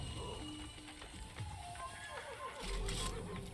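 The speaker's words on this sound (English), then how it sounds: "Am I stabbing the horse?" A horse neighs in the video game Assassin's Creed, with hoofbeats and game action around it and a person talking over the top.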